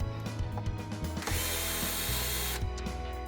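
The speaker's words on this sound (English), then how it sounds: "There are 3 screws to undo." Three screws being backed out of the motor on an MGI Navigator Quad golf trolley, with a ratcheting, clicking driver and a steady mechanical whir in the middle of the stretch.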